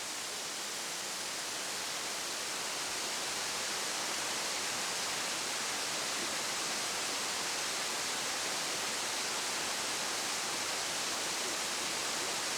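Steady roar of the Yeonsan waterfall in Yongchu Valley on Naeyeonsan, Pohang, a dense broadband rush of falling water pouring continuously at close range with no voices.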